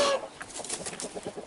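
Clucking from a yellow-brown-black rooster, part of a group of three farm roosters, comes in a run of short close calls over about a second and a half, with no talking.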